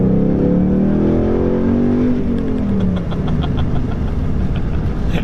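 A 2018 Ford Mustang GT V8 revs hard and accelerates, a loud, close, steady engine roar that climbs in pitch across the first few seconds before settling into a sustained drone with no voices.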